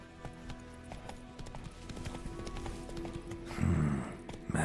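A horse in an Xbox video game gallops with quick, rhythmic hoof clip-clops at moderate distance, ending in a short whinny-like burst.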